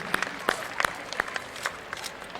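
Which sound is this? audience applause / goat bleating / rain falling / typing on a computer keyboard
audience applause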